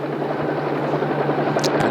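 A helicopter's rotor chops in a steady, pulsing drone, loud and close, with a brief high squeal near the end.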